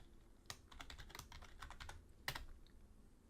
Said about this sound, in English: Let's type in something actually within that range.